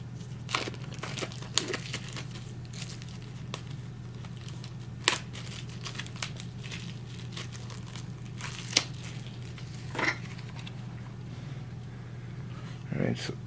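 Cardboard game pieces for the Magic The Gathering Arena of the Planeswalkers board game are cut and punched out, giving sporadic sharp snips and crinkles over a steady low hum.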